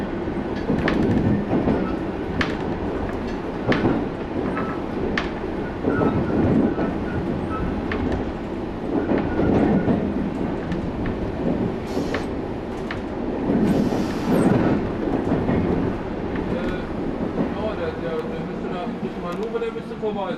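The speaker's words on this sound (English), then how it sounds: "The train is about to enter the Braunschweig station." A train rolls into Braunschweig station, a steady rumble with clickety-clack rail rhythm running throughout, fairly close and continuous, with voices talking over it now and then.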